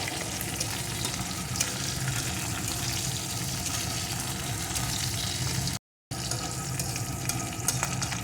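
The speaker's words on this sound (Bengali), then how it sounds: "কাঁচা লঙ্কাগুলোও রসুনের সাথে একটু ভেজে নেব" Green chilies fry with garlic in a pan in a steady, close, loud sizzle that runs unbroken except for one short gap near the end.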